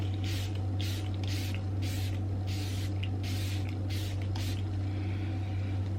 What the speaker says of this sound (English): I'm just liberally applying the setting spray